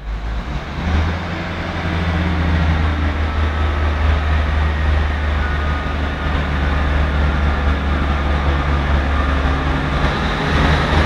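A Class 158 diesel passenger train departs Lincoln Central station, rumbling and droning steadily as it pulls away, engine noise rising after a quiet first second, with wheels clattering along the rails.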